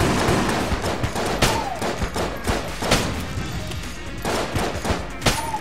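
Rapid bursts of gunfire from the video game Enter the Gungeon, loud and close, with repeated sharp shots and blasts coming in clusters across several seconds, no voices.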